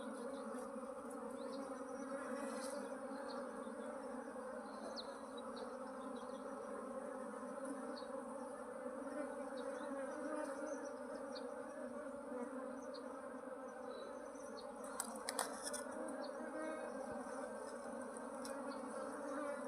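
A swarm of honey bees near a wooden bee box fills the air with a dense, steady buzzing hum. It stays constant and fairly faint throughout, with no voices.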